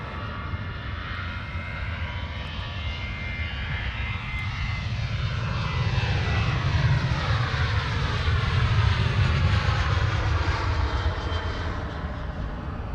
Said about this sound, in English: Ryanair Boeing 737-800 on its way to the...